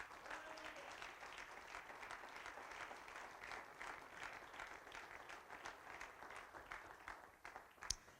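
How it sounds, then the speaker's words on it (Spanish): A church congregation applauds together in sustained, fairly faint clapping, evenly dense with rippling bursts, fading slightly near the end. "Dele un fuerte aplauso al Señor"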